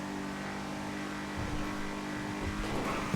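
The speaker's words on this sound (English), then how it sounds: "I don't know what's wrong with this car." A car engine in the video game GTA V hums steadily at close range, then rises briefly as it revs near the end, heard alone without talk.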